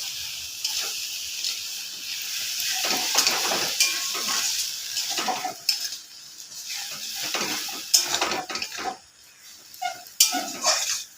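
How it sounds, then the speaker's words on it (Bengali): Sugar goes into a sour mixture cooking in a pan, with close scraping and stirring, light sizzling and occasional clinks of a utensil against the pan, irregular and near, with no talk. "এই যে দেখো, চিনিটাকে দিয়ে দিচ্ছি, অনেকগুলো চিনি দিচ্ছি"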